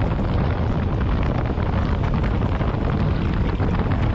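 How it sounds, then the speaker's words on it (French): Steady, loud, broadband wind roar buffeting the helmet while riding a 2024 Yamaha Tenere 700 motorcycle into a headwind on the road, continuous and unbroken with no voices. "Il y a du vent contraire donc on est assez bien protégé"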